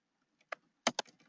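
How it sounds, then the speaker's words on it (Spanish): Keys tapped on a computer keyboard, a few sparse, sharp clicks up close in a quiet room. "y el teclado me enloquece"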